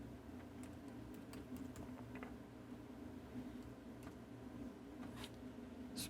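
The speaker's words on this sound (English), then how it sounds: "we're going to type here" Soft, quiet key taps on a computer keyboard come as scattered clicks over a steady low hum, with no talk.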